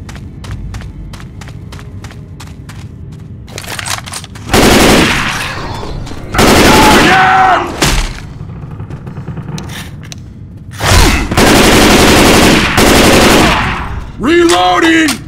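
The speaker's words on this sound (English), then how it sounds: "Got the shotgun." Shotgun blasts and bursts of automatic gunfire in the zombie shooter Left 4 Dead 2, loud and close, in several heavy volleys with quieter gaps and game voices between them.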